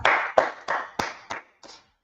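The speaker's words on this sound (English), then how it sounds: "Let's clap it up for the Most High God." A congregation at a religious gathering claps six sharp, evenly spaced times, each clap ringing briefly before the next, with the rhythm fading toward the end.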